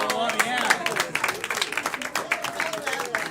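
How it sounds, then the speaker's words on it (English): Audience clapping at a live show, a short burst of scattered applause from a crowd mixed with overlapping voices and chatter. "Clap for everyone."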